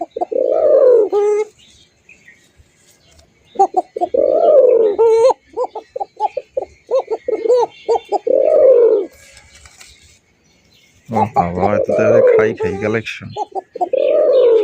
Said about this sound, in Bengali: লাস্টের ডাকটা কিন্তু ঘুঘুর মতো লাগে ভাই